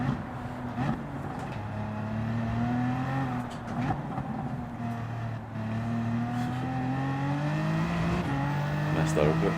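A BMW race car engine in the Gran Turismo 7 video game, droning and shifting pitch steadily as it accelerates through gears, with a person talking over it at times.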